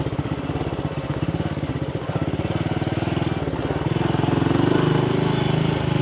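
Honda CT125 small motorcycle ridden along, captured onboard with a GoPro Hero 9: a continuous, rapidly pulsing single-cylinder engine note that climbs and grows louder toward the end as the rider accelerates.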